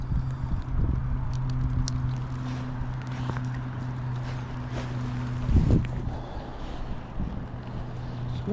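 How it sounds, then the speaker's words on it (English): Steady wind blows across an open fishing lake, a constant low rumble and buffeting on the microphone with a brief stronger gust, heard alone without talk. "Just want this wind to stop."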